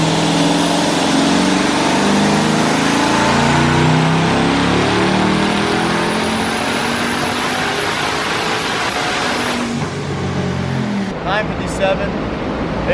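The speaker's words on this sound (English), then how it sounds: "first dyno pull" Twin-turbo Camaro ZL1 with a newly built 10-speed automatic roaring on the dyno during its first pull, a loud sustained engine howl climbing steadily in pitch before easing off near the end, with people talking over it.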